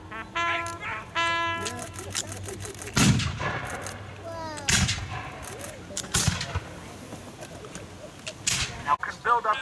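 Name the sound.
musket volley fire at battle reenactment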